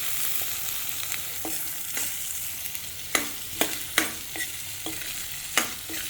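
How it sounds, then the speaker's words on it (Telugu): Beetroot tipped into a frying pan for rasam and stirred, with scattered scraping clicks of the spoon over a low sizzle, close and fairly quiet, no talking. "ఇది వేగింది కాబట్టి ఇందులోకి మనము ఈ బీట్రూట్ ఇలా వేసేసుకుందాం."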